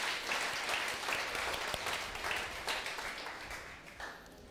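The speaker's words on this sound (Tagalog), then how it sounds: "Ang mga excited, pumapalakpak ng the best kay Jesus." A church congregation claps and applauds, a dense patter of many hands that stays strong and then tapers slightly toward the end.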